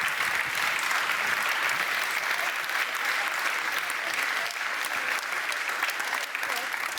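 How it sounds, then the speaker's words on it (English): Sustained, dense applause from an Oxford debate audience after the result on whether Asia's rise will lead to a new world order is announced, steady and fairly loud throughout with no break. "A huge congratulations and applause for you."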